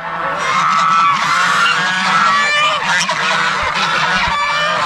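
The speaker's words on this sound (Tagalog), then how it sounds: "Napakaingay po sa ating mga gansa, oh." A loud, busy chorus of geese honking continuously, many birds calling over one another at close range with a steady low rumble beneath.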